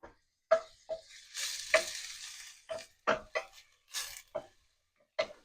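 Aromatic ingredients for Lao Kua Mee, Lao fried noodles, hitting hot oil, with bursts of sizzling and scraping stirring strokes in separate pulses, fairly close and with no talking.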